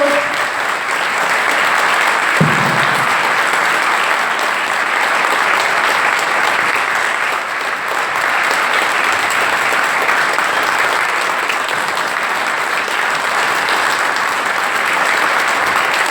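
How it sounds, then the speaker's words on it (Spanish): Long, steady audience applause at a UFO studies congress in Victoria, a broad continuous wash of clapping from a large room lasting many seconds, with faint talk underneath. "Fuerte el aplauso."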